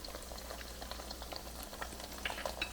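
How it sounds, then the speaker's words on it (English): Eggs frying in a pan while cooking pad kra pao, a steady close sizzle with fine crackling pops and spatters throughout. "now the eggs start to get a little crispier on the edges."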